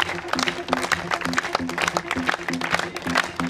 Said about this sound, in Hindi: जब तक प्राइज मिलते तब तक आपको तालियां बजानी है।